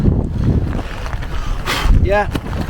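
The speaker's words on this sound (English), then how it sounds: "the gusts are really picking up" Strong gusty wind, almost 40 miles an hour, buffets the microphone in rough, uneven blasts, loud and close, with a brief whooshing swell near the end, at a wild camp during a thunderstorm.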